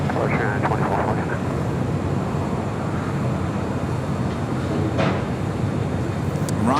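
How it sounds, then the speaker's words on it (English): United Airlines jet taking off from LAX, a loud continuous roar of jet engines close by, with a radio voice faintly heard over it. "Taking off was United Airlines flight 2449 heading to Las Vegas"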